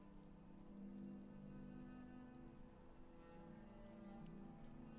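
Rain falls steadily in the game Skyrim, a soft continuous patter of drops on surfaces, quiet and even from start to finish with no talking.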